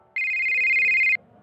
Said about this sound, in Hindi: तभी केसर के फोन पर शीबा का कॉल आता है